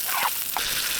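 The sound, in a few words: venison searing in a frying pan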